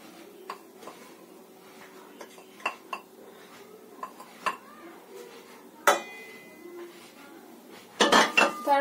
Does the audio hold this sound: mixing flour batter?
yes